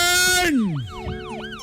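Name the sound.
police car siren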